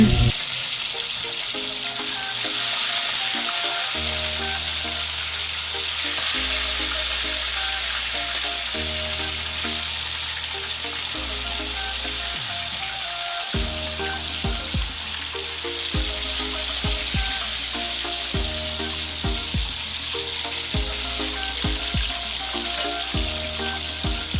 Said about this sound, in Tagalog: nagsimula na pala ako ng pagpiprito ng isda na para sa aming ulam